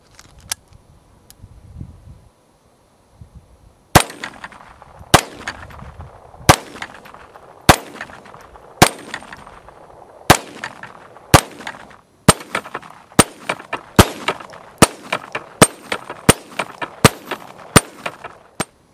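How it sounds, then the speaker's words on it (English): Pistol shots ring out at .22 pop-up steel targets at close range, about fifteen sharp cracks in a steady cadence, some quickening toward the end, each followed by a metallic ring, after a few quiet seconds of handling. "So with the pistol, we're going to get up a little closer and just see how they perform"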